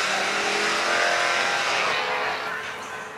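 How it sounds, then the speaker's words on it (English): A car drives past outside a house at night, its engine revving loudly and steadily as it goes by close at hand, then gradually fading as it moves away. "That car was me mugging me too."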